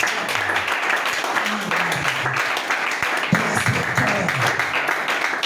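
A church congregation applauding together, steady loud clapping from many hands with scattered voices mixed in throughout.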